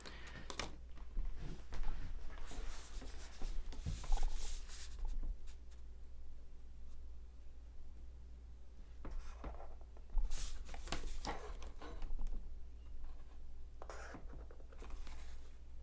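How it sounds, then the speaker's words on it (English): A pencil draws a geometric decagram construction on paper, giving close, intermittent scratchy strokes in short bursts separated by quiet pauses, with no voices. "I'll do another construction with pencil so I can erase it"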